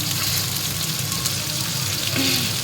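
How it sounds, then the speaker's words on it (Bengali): Poppy seed paste fries lightly in a pan, giving a steady, fairly loud hiss and gentle sizzle that continues without pause for a couple of seconds, with no voices. "এটা হালকা করে ভেজে নিয়ে"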